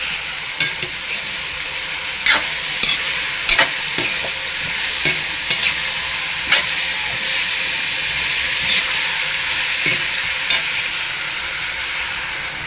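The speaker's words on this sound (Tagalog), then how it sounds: "Tapos ilagay na po natin yung bunga ng malunggay." Mackerel sinigang with moringa pods simmering in a pot and being stirred, giving a steady bubbling hiss broken by scattered clinks and scrapes of the spoon against the pot, with no talking.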